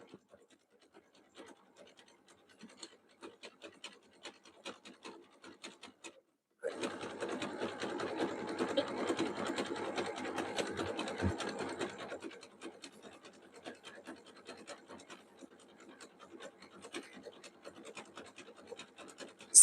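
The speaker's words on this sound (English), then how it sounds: "So we are coming up to halfway on the sewing the zigzag stitches here." A sewing machine running zigzag stitches on a jelly roll rug, a faint rattling hum that starts, runs steadily for about six seconds, then gives way to softer intermittent scratching and fabric handling.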